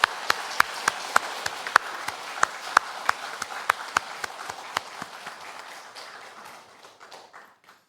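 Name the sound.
congregation applause to God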